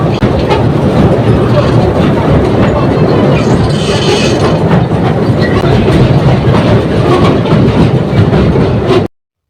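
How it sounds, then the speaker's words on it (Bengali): A train ride at a holiday park rumbles steadily with clickety-clack wheel rhythm and a dense, close rolling roar for about nine seconds, then stops abruptly. "ট্রেনের রাইড শেষ হয়ে গিয়েছে।"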